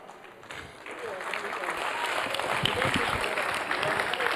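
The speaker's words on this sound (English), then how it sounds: "can we give a more rousing applause to Ziad for that wonderful presentation?" Audience applause at an annual general meeting, building from a thin start into steady, dense clapping that fills the room for several seconds, with some murmuring from the crowd mixed in.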